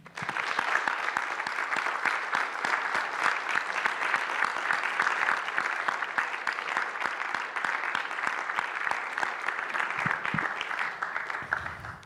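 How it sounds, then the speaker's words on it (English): Church congregation at a Father's Day service claps steadily for the grandfathers present, a dense, sustained round of applause filling the room for about twelve seconds before tapering off near the end. "I'm wondering if you wouldn't mind joining me and clap your hands together for every grandpa that is here"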